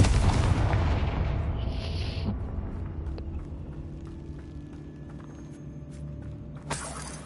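A heavy booming blast from the Confringo fire spell in Hogwarts Legacy erupts loudly at the start, then rumbles and fades over several seconds, with a faint crackling tail and a small pop near the end.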